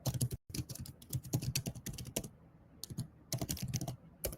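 Rapid keystrokes on a computer keyboard entering a text query, quiet and close, coming in irregular bursts with short pauses between runs of clicks.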